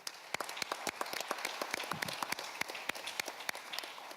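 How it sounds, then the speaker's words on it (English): Sparse clapping from a small audience at a pitch competition awards event, a few hands striking in irregular rhythm, faint and somewhat distant, with no talk. "let's give everyone a huge round of applause"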